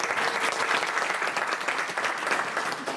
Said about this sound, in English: Katie, we can give Katie a round of applause